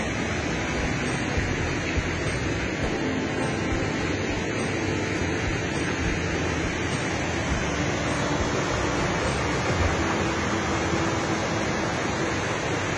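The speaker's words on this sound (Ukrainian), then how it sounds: "Якщо бачите, виявились такі невеличкі водоспади там." Small waterfalls on a river channel beside Radomysl castle, a steady broadband rush of falling water that holds at an even level throughout, with no voices.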